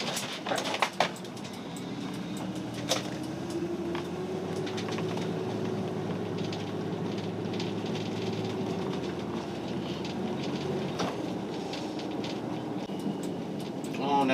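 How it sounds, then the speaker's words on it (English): A train rolls past a road crossing in a long, steady rumble with rhythmic wheel clatter, heard from a waiting vehicle. Faint bird calls and a few sharp knocks are scattered through the passage. "Oh, now we get to wait for a train."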